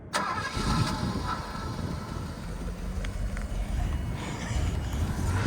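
A Mercedes-AMG car engine cranks and catches with a sharp burst at the start, then settles into a steady, fairly quiet idle that continues close by with no talking.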